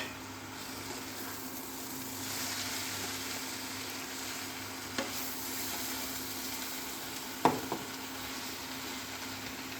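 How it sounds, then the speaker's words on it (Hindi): Chopped tomato stirred into capsicum and cabbage frying in a pan, a quiet steady sizzle with faint scraping strokes and a couple of brief knocks of the spoon. "अब देखिए इसमें 1 टमाटर काट के रखा है, वो उसको मिला रही हूँ।"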